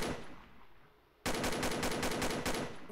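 After a quiet second, a rapid burst of automatic gunfire rattles out in quick, evenly spaced shots, loud and close, like game weapon audio.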